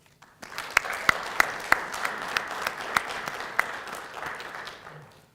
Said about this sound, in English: please join me in a round of applause for Cadet Towery and Cadet Graves